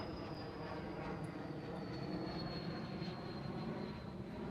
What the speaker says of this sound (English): Not too far, you hear the airplane,